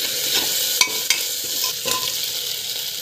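Tomato sautéing in a pan with ginger garlic paste, asafoetida and rock salt, a steady close sizzle broken by a few sharp clicks of a spoon stirring against the pan.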